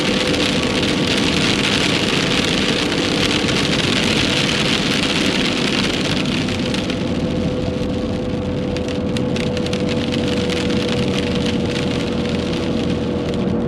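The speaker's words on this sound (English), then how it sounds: "Now we're going to get some heavier rain, it seems like, just as we're going up the mountain." Heavy rain drumming steadily on a vehicle climbing a mountain road in Pennsylvania, a loud, dense wash of patter over low road and engine rumble, with no voices.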